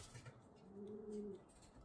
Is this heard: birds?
yes